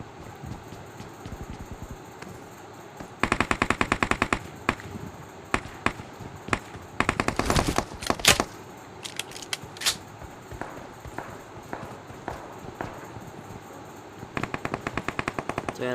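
Gunfire in the mobile battle royale game PUBG Mobile, rapid automatic bursts and scattered single shots in several clusters, fairly quiet and distant-sounding with no talk.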